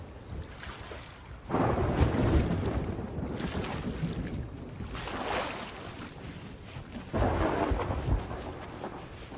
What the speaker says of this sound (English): is that thunder? Seriously? It might be following us.